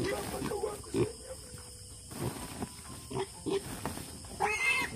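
Pig grunting at a farm, several short low grunts in irregular bursts, moderately close, with people talking nearby.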